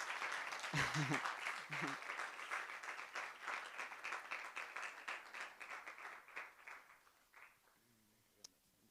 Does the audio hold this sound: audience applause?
yes